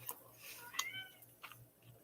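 A pet cat named Rex lets out a brief, quiet meow-like call near the start, with faint ticking underneath and no talking.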